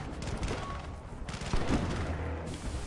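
Bursts of rifle and machine-gun fire in a Battlefield: Bad Company 2 conquest match on a snowy mountain pass, distant and moderately loud, with rapid overlapping shots under a steady game ambience.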